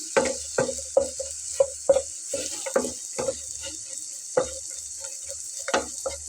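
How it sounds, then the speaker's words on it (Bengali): Food frying in a pan with bitter gourd, a steady high hiss under a run of rhythmic clicking taps and stirring knocks, close and moderately loud. "ভালো করে ভেজে নিলাম"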